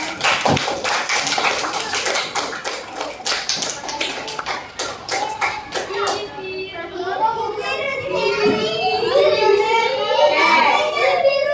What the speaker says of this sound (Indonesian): tepuk tangan dong untuk temannya yang sudah masuk